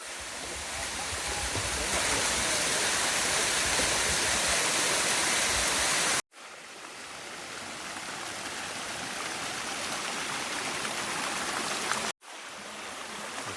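Sticky Waterfall near Chiang Mai, a loud, continuous rush of falling water heard close, broken by two abrupt cuts to silence before resuming.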